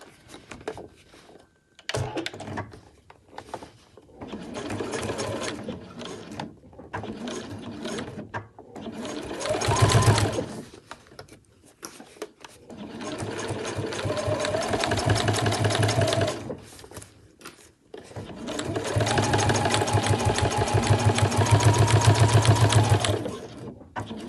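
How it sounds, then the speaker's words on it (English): Sewing machine stitching a seam across the bottom of a Honey backpack, running in several long bursts separated by short pauses and handling noises, close and fairly loud with no voices. "So now we're going to sew across the bottom of the bag."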